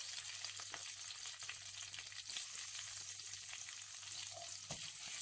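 Ginger garlic paste sautés with tapioca in a pan, a soft, steady sizzle with a few light stirring taps.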